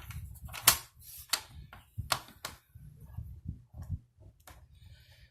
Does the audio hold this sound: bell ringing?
no